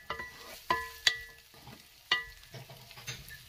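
Falafel added to onion frying in a pan and stirred, giving a few sharp clinks and scrapes over a soft, steady sizzle, close and fairly quiet, with no talk.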